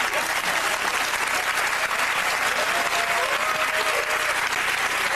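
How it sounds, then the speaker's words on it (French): An audience applauds warmly and steadily for several seconds, a thick, even wash of clapping from a large crowd with no pauses. "Oui, mais au moins, j'ai été applaudi."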